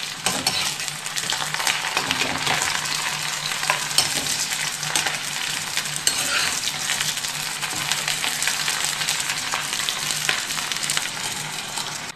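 Jackfruit pieces fry golden in hot oil in a kadhai, giving a steady, close, dense sizzle with faint stirring scrapes that runs unbroken for the whole stretch without any talking.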